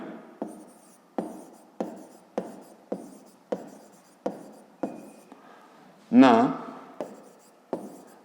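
Pencil writing out a fifth-grade math exercise on paper: a steady series of short scratchy strokes, each a distinct tap-and-drag, near and alone, with one louder rubbing scrape partway through.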